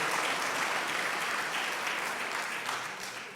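A church congregation at a Korean immigrant Sunday worship service claps together in a dense, steady burst of applause that fades slightly at the end, with no voices over it.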